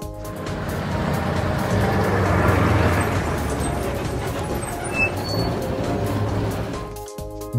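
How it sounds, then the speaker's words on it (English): Cartoon bus on the road, a steady, loud engine rumble with rolling road noise running throughout, no talking. "Bus."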